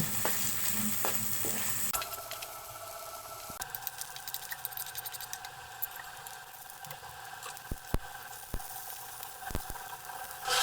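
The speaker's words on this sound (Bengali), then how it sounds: "এখন আমি চিনি মাছ দিয়ে মাছটা ভেজে নেব" Small shrimp frying in a pan of hot oil, giving a steady close sizzle that shifts as the food is moved, with a few sharp clinks of a utensil on the pan and no talking.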